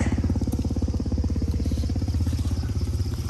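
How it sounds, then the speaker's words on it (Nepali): Motorcycles ride past on a village road in Lamjung, Nepal, a steady close engine drone with rhythmic pulsing that holds throughout, with no voices over it. "फेरि आउँदैछ हे भगवान् कति धेरै हो बाइक"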